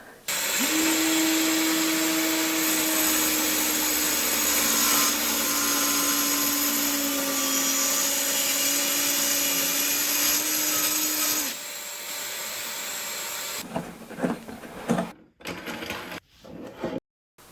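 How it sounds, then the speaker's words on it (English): A Dremel portable saw cuts through wood with a shop vac attached, giving a loud, steady whining drone for about eleven seconds before winding down, followed by clunks and handling noises, with no talking. "And then I power on the saw and make the cut through the wood."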